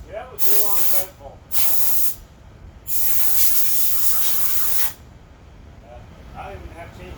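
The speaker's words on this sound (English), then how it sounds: "we're just gonna blow some of the debris that came out from underneath the deck off" Compressed air hisses loudly in three close bursts, blowing debris off the deck of a Snapper lawn mower, with short and longer blasts separated by pauses.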